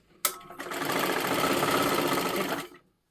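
A sewing machine runs a steady line of stitches through silky fabric, with a sharp start followed by a fast, even whirring rattle for about two seconds before it stops, close and clear with no talk.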